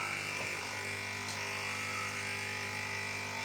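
A coffee machine runs with a continuous mechanical hum and whir, steady and fairly close, with no voices.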